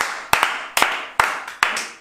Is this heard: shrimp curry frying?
no